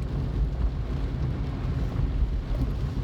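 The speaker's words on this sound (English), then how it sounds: "It's pouring down with rain." Heavy rain drums steadily on a car moving through wet streets with a 30 mph limit, a dense continuous roar of water and road noise with low rumble, no talking.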